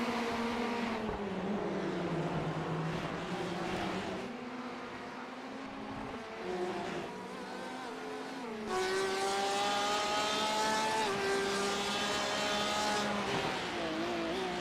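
A sim racing car on the Suzuka circuit roars steadily, its engine note dipping and then climbing as it brakes hard into the hairpin with a lockup, continuous and close with no talk over it.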